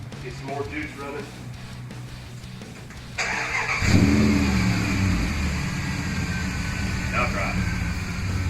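A classic MGB sports car's engine catches and revs, after fresh carburetor fluid and a spring fix, roaring up loud and close and then running on steadily while someone talks nearby.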